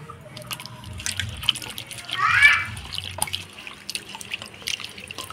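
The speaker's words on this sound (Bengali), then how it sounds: "আলু আর সাজনা ডাঁটা কাটে ধুয়ে নিলাম।" Cut potatoes and drumstick pieces are rinsed in water while cooking a Bengali meal, with soft splashes and drips in a basin, close and fairly quiet, rising briefly midway.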